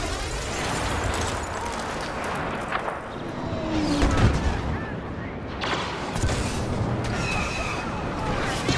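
Weapons fire against walkers in a Star Wars Battlefront battle: a dense, continuous roar of blasts and rumbling booms, with a heavier explosion near the middle and voices faintly mixed into the din.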